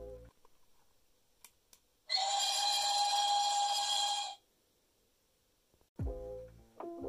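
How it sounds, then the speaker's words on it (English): A thin, electronic-sounding model locomotive whistle from a cheap sound system blows for about two seconds, steady and bright, between quiet clicks and a bit of nearby speech. "as you can see, it does have a whistle"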